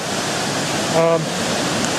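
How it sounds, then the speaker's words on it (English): Steady, full roar of rushing water from Rooster Tail Falls river rapids, a continuous broadband wash heard close and alone. "give you an idea of the water. See, there's the falls"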